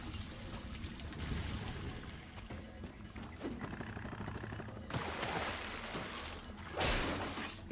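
Water rushes back into a flooded sewer in the Ratchet & Clank remake, a churning, splashing wash that swells in bursts with a loud surge near the end.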